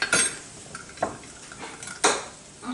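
A utensil scrapes and clinks against a pan as flour is stirred into melted butter for an Alfredo sauce, four or five short, close strokes with no talk.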